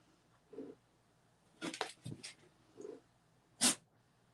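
A sharp single sneeze bursts out near the end, loud and bright against a quiet room, after a few softer snorts and sniffs.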